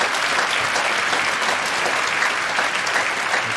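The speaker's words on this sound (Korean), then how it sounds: "우리 청년들을 위해서도 박수 한번 치겠습니다." A church congregation at a Korean Friday overnight worship service applauds for its young adults. The clapping is full and continuous, sustained evenly throughout without any speech over it.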